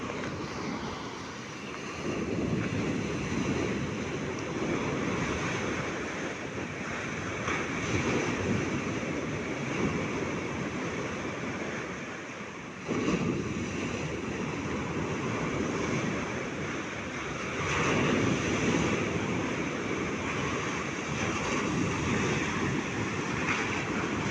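Loud storm-driven ocean surf crashes and roars continuously, with rushing wind noise buffeting the microphone throughout.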